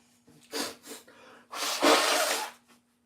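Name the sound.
nose blowing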